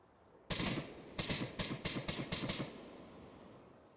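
Gunfire in the VR shooter Onward: a single shot followed by a rapid series of about six more bursts, fairly faint and distant-sounding, then fading into quiet.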